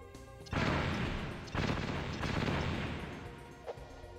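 C4 explosives detonating in the Metal Gear Solid VR Missions game, two heavy blasts about a second apart with rumbling crackling tails that fade slowly, loud and close.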